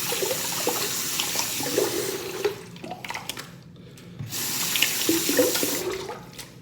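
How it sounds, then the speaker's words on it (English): Tap water running steadily as hands are rinsed beneath it, close splashing and gurgling that dips briefly midway before the flow returns. "I can rinse my hands completely clean"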